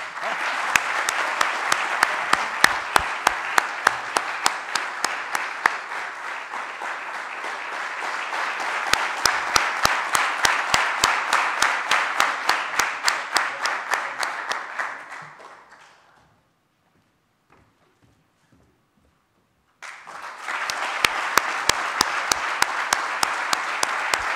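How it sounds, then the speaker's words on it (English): Sustained applause from a large crowd fills the air, fades to silence for a few seconds, then the clapping resumes just as strongly. "Can we be a bit more generous with our clappings?"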